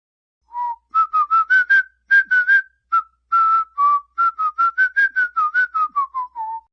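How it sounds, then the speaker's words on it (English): A person whistles a melodic tune alone, a recorded track of clear, close notes in quick phrases with brief gaps, rising and falling in pitch before a final held note. "Now this is just a track of me whistling."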